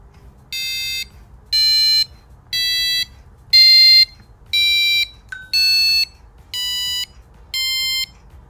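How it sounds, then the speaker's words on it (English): Eight evenly spaced electronic beeps from a small passive buzzer driven by an Arduino, each tone stepping up a C scale, clear and close with no talking. "The buzzer now plays."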